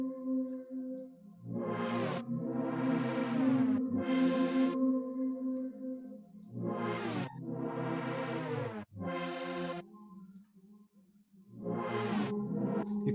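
Processed vocal chords swell and fade in long sustained bursts, drenched in reverb inside Ableton Live 11, each phrase trailing into a smeared tail before silence and the next entry.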